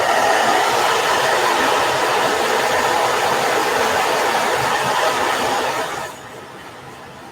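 A hair dryer blows steadily on an art journal page, a loud continuous whoosh close to the microphone that runs for several seconds and then cuts off, leaving quiet room tone.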